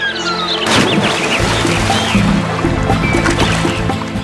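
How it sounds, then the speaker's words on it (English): A horse slipping into water, with a broad splash and ongoing sloshing and gurgling, fairly loud and close, with a low steady hum beneath. "The horse purposely started slipping into the water every day"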